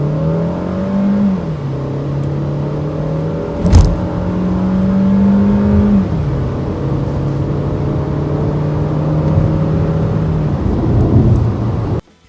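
An SUV with a six-speed automatic transmission accelerates hard, engine revving up through several gear changes with rising and falling pitch, loud and close from inside the car, alone without talk.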